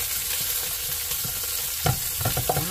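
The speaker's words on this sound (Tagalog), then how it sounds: "nasaute na po natin yung ating onion at saka garlic" Onion and garlic sauté in a pan with a close, continuous sizzle, joined toward the end by a few clattering stirs of a utensil against the pan.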